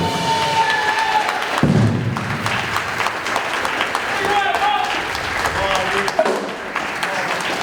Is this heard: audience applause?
yes